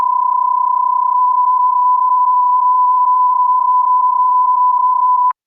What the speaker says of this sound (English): PSK31 would sound like this.